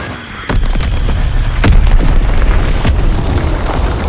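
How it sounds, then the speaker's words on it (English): A loud bomb explosion in Call of Duty WW2 hits near the player with a sudden booming onset, followed by a sustained rumbling roar and several further cracking blasts, with no talking. "I get hit by a bomb."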